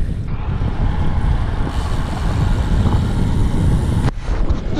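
Heavy, steady wind buffeting the microphone while cycling, a loud low rumble with hiss that continues almost unbroken, dropping briefly near the end.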